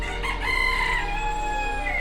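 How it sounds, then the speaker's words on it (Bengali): A rooster crows loudly and close by in a Bengali farmyard after a storm, a long drawn-out cock-a-doodle-doo over a steady low hum, with no talk. "মুরগিগুলো পড়ে চিল্লেছে"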